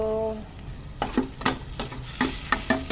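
Chicken breast being sautéed with bitter gourd in a hot pan, a loud sizzle punctuated by a rapid series of spatula scrapes and knocks against the pan.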